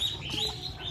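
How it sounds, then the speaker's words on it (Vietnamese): Red-breasted parakeet kept as a decoy bird for trapping wild birds, giving shrill, continuous chirping calls close by, with other birds in the background. "con vẹt ngược hồng nha các bạn."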